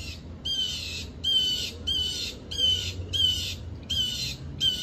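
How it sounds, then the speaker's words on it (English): Harsh bird squawks repeat about once a second in a steady series, fairly close, over a low rumbling background. "Heard that bird, you hear it?"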